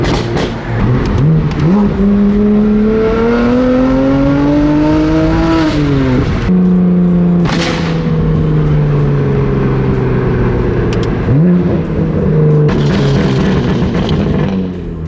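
A loud Stage 4 tuned BMW F80 M3 revving and pulling away, the engine note sweeping up and down through several gear changes, close and aggressive with sharp crackles between shifts.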